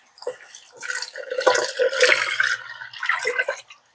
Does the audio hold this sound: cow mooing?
no